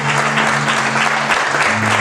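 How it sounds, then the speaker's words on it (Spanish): A church congregation applauding, a dense, loud wash of clapping throughout, with a steady low musical tone sustained underneath. "iglesia aplaudiendo"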